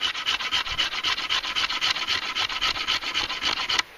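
Hand-held stone tool shaving and smoothing wood off a stick bow like a small planer, a steady run of quick raspy scraping strokes, close and fairly loud, with no talking.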